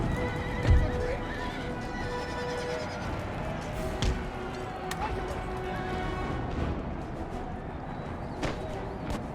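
Cavalry horses charge across an Empire: Total War battlefield as a regiment of horse, a dense, loud rumble of many hooves with repeated neighs and whinnies over a continuous battle din.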